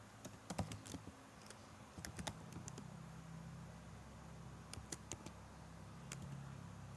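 Someone types network switch configuration commands on a computer keyboard, giving short irregular bursts of fairly quiet key clicks over a steady low room hum, with no speech.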